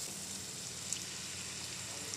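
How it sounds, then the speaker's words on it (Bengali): A spice masala with ginger-garlic paste sautéing in a pan for an egg dish, giving a steady, close sizzle and crackle throughout, with a faint stir or scrape near the end. "দিয়ে ভালো করে কষিয়ে নেব মশলাটাকে"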